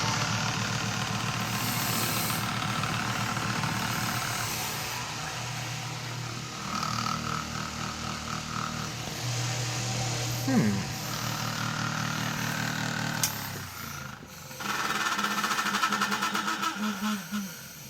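An old electric fan motor spinning and pushing air, a loud rough whirring hum with a low rumble that shifts and briefly dips partway through, heard while a person talks over it.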